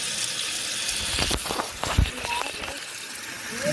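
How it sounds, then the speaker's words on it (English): A toilet tank refilling with water after a running-toilet repair, a steady hiss and trickle up close with a few clunks and knocks, while someone talks over it. "You see the water filling over here. You got the water going down the tube."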